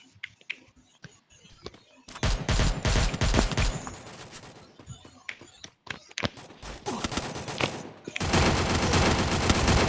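Rapid bursts of gunfire from a mobile shooter game in ranked Counter-Strike-style play, loud and dense, firing in long clusters after a quiet opening, with excited voices talking over the action.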